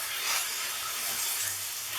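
Miso-glazed cod fillets, just flipped in a hot pan, sizzle with a steady, soft, broadband hiss that stays even and fairly quiet throughout.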